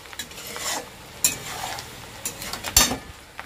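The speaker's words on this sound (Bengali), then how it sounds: "এরকম পেঁয়াজ ভাজছি" Onions frying in a pan while being stirred for a mutton dish, giving a steady soft sizzle with several sharp scrapes and clinks of the spoon against the pan, close and fairly quiet.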